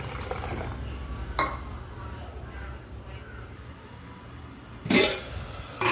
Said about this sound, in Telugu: వాటర్ వేసి నానపెడుతున్నా కాసేపు